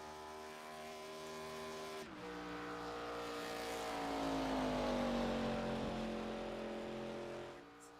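A NASCAR ARCA stock car at Atlanta in a sim racing game roars close and steady, its engine note dipping after a brief shift, then climbing and swelling loud before easing off. No one speaks.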